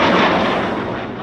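An M61A1 Vulcan six-barrel aircraft cannon firing in a Ukrainian frontline combat setting; one dense, roaring burst, loud and close, that fades slightly toward the end with no voices.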